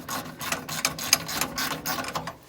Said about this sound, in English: And then get my favorite ratchet and start tightening.